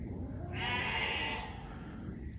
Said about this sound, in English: I got sheep that side of the bedroom, which is that window there